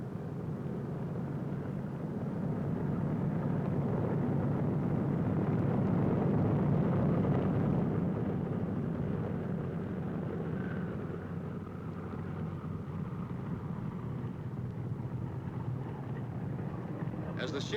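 Heavy World War II B-29 bomber taxiing on a runway, its piston engines droning in a steady, deep rumble that swells and eases slightly as the plane steers with its outboard engines.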